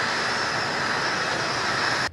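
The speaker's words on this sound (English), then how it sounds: "As the helicopter carrying the vice president landed" A helicopter carrying a vice president lands near a burning town in Pibor, South Sudan, during 2012 unrest. Its steady, loud rotor and turbine roar fills the whole stretch without a break, then cuts off sharply at the very end.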